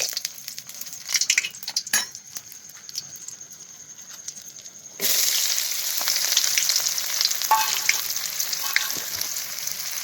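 Chopped onions land in hot oil with green chilli and garlic, setting off a loud, steady sizzle that jumps up halfway through after quieter scraping and clinks in the pan.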